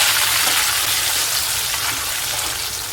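Jackfruit chips fry in hot oil in a Kerala kitchen, giving a steady, loud, dense crackling sizzle with fine bubbling that holds evenly throughout, with no voices over it.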